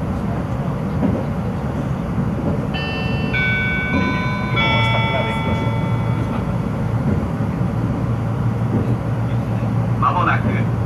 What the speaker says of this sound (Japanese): この列車は成田エクスプレス17号、成田空港行きです。